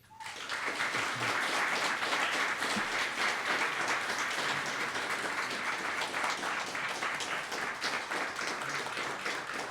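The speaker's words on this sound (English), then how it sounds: "Please extend Sergeant Major Auxier a round of applause." A large crowd at a West Point retirement ceremony for Command Sergeant Major Daniel Auxier applauds, a steady, dense wash of clapping that swells in quickly and holds evenly throughout.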